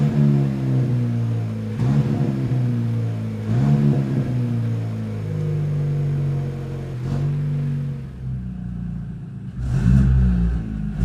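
An Opel Astra K Sports Tourer 1.4 turbo with an unhealthy-sounding exhaust revs repeatedly, several rising engine blips over a deep idling rumble, close and loud, with a sharper final rev near the end.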